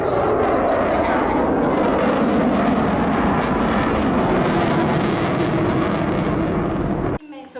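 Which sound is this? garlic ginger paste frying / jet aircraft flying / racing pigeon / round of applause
jet aircraft flying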